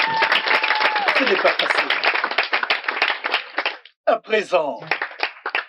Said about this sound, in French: S'il vous plaît, des acclamations.